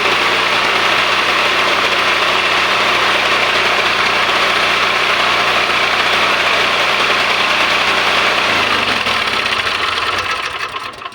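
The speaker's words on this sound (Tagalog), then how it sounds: "umaandar na yung ating starter" A Blackstone generator engine runs loud and close after starting, holding a steady, buzzing idle for several seconds before the sound tapers off at the very end.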